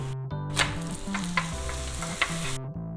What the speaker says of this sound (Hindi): फ्लेम पे दोनों तरफ हल्का हल्का सा पक जाए तब तक वेट करना है और फिर हम ऑयल लगाएंगे।